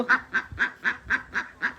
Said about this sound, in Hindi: और बतख फार्मिंग की तो लगी हुई है मौजें, आज इन्हें शुद्ध दाना मिल रहा है